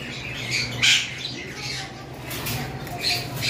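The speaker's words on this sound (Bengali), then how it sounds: "এখানে রয়েছে আমাদের কাছে ভায়োলেট লাভবার্ড, ভায়োলেট মাস্ক" Violet masked lovebirds squawk and chatter repeatedly over a steady background hum, with sharp, shrill calls rising and fading throughout.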